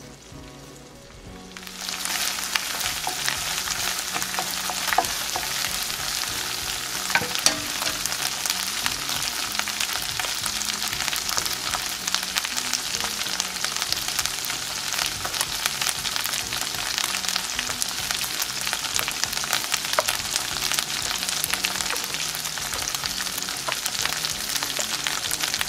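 Chorizo sizzling steadily in a pan for breakfast casserole, a dense continuous crackle that starts after a brief quiet moment and holds loud and even throughout, with occasional sharper pops and light stirring.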